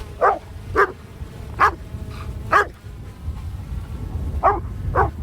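A dog barks at a flying drone on the Algodones Sand Dunes in Southern California, about seven short sharp barks spaced irregularly over steady low background noise, fairly close.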